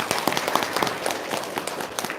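A crowd at an Indonesian religious-teaching gathering claps briefly, a busy, close patter of hands with a few louder individual claps standing out.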